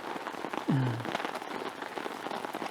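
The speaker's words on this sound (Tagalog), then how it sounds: "Lumakas pa nga yung ulan." Heavy rain falls steadily on a surface at a motorcycle campsite in foggy Baguio, a dense broadband hiss from start to end, with one brief low swooping sound near the start.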